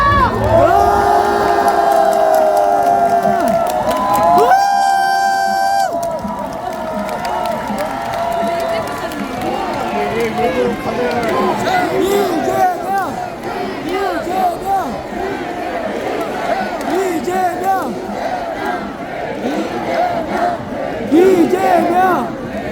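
A large outdoor crowd at a presidential election campaign rally on a shopping street roars and shouts continuously, with rhythmic chanting voices, loud and sustained, and a few sharper bursts breaking through the din.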